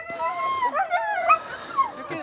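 Sled dogs close by whine, yip and howl in short, eager bursts, with a few high yelps breaking through the excited chorus as a team is hitched to pull a sled.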